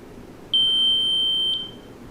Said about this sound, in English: Pull the tab, blinky green light, wait for it to beep.